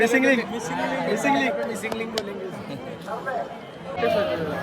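A dense crowd of pilgrims on the Wari procession fills the air with steady chatter and babble, with voices near and far overlapping continuously and no single speaker standing out.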